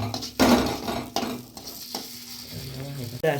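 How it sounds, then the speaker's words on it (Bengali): Gobindobhog rice being sautéed with spices in a pan, heard as close, loud scraping stirs and bursts of sizzle in uneven strokes. "আবার চালটা দিয়ে সুন্দর করে কষিয়ে নেব"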